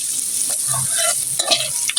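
Onion and spices sautéing in a pan for a home-style fish bhuna, a close steady sizzle broken by scraping stirs and clinks of the spatula.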